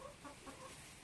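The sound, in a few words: chickens clucking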